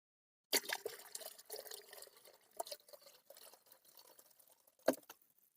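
Water pours into oil, splashing and trickling steadily for several seconds, close by, with a sharper splash near the end; no talking.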